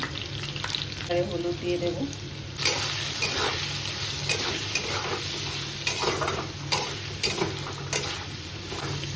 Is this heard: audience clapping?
no